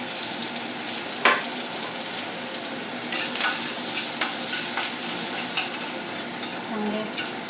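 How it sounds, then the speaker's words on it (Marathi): Mustard seeds, asafoetida and crushed garlic sizzle in hot oil for kadi pakoda, a loud continuous crackle close up with scattered sharp pops and a few spoon scrapes. "मोहरी चांगली तडतडू लागलेली आहे."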